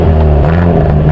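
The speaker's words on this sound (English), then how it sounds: "Things like a demon expelling exhaust" The 2022 Hyundai Elantra N gives a brief, loud, steady low exhaust rumble with a deep droning tone, heard on its own.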